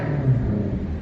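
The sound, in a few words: Maserati exhaust revving with valves open, near straight pipes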